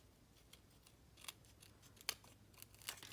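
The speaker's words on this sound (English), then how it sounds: "It's easier with smaller scissors," Small scissors trimming acetate around a heart shape for a mini shaker craft: a few quiet, crisp snips spaced irregularly, close and faint, with no talking.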